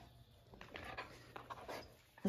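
Puppies panting with soft whimpers, close and fairly quiet, broken by a few brief louder rustles and a sharper sound at the end.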